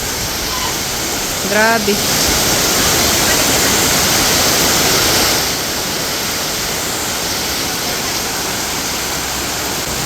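Very heavy rain pours down in a dense, steady roar, like a storm, filling the scene close by; a voice briefly exclaims near the start.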